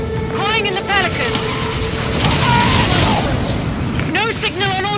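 A reactor explodes in the video game Halo 5: Guardians, a heavy rumbling boom that surges and fills the scene alongside whooshing effects, with voices talking over it.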